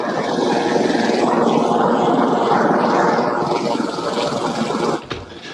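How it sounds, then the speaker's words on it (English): Steady, loud rotor and engine roar fills the whole stretch, a helicopter drawing near to land on an island, with a brief dip and thump near the end. "The helicopter approaches the island and comes to land"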